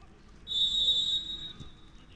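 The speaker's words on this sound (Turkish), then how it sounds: "Son uzatma devresinin ilk düdüğü geliyor" A referee's whistle sounds once at a U19 Galatasaray–Beşiktaş quarter-final football match, signalling the start of the final extra-time period: a single sustained shrill blast of about three-quarters of a second over steady crowd noise.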